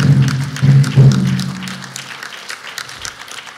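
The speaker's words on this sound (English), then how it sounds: "Ladies and gentlemen, a round of applause for American Legion Post 262." Applause at an NRCNAA 25th awards banquet for the American Legion Post 262 color guard, clapping that swells briefly with a low hum from the room and then thins into scattered claps toward the end.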